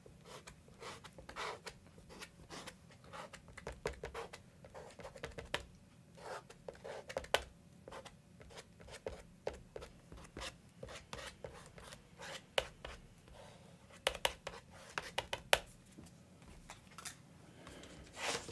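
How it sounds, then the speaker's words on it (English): A tool scrapes marks and light areas into a watercolor painting of rocks in an abstract landscape, giving faint, close, scratchy strokes in short irregular clusters over a quiet background, with no voice. "What I'm doing is just kind of scraping out some marks here, some light areas down here in these rocks."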